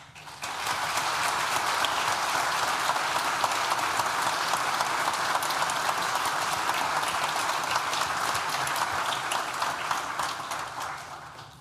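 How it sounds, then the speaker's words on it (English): Applause at a university graduation ceremony swells quickly and holds as a dense, even wash of many hands clapping from a large audience before fading at the close. "Please join me in thanking them with a well-deserved round of applause."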